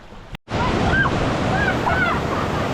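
Snow-runoff water in a small Yosemite creek rushes steadily and loudly, a continuous broadband roar after a brief dropout, with faint outdoor sounds over it.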